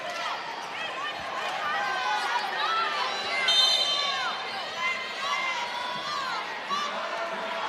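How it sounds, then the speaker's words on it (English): A women's college volleyball crowd, BYU against UCF, chatters and grows louder in a large arena, with a broad wash of voices, squeaks and shouts under constant talk. "Crowd getting loud, lots of blue here tonight."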